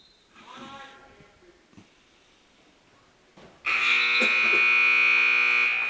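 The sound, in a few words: wrestling match period-end buzzer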